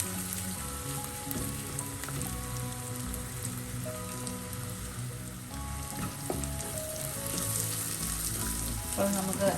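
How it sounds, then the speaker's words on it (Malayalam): A masala is sautéed for a prawn and shallot dish in the same oil that fried the prawns, making a rain-like, steady sizzle with occasional stirring, close and fairly loud throughout. "പച്ചമണം മാറുന്നത് വരെ ഒന്ന് വഴറ്റാം."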